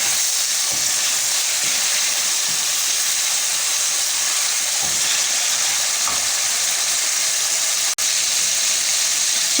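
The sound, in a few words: chicken frying on high flame for chicken karahi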